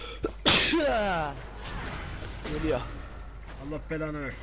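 A single loud sneeze bursts out early, followed by Turkish chatter from gamers during a League of Legends session, with voices continuing afterward.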